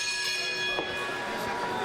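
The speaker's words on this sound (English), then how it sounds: "The bell sounds, we're underway." A bell rings steadily to start a wrestling match at an NWA Wisconsin event, sustained metallic tones with crowd and arena noise around them.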